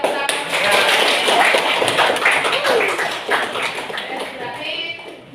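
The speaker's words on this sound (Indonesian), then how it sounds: "Oke, tepuk tangan." A class of students clapping their hands in a loud burst of group applause that swells quickly and then slowly thins out, with some voices mixed in.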